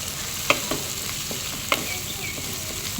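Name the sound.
stirring stir-fried cabbage with tomato in pan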